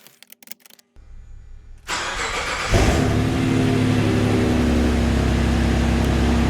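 A Subaru Legacy 3.0 engine with a timing chain rattle cranks and fires after a few clicks, then settles into a loud, steady idle close to the microphone.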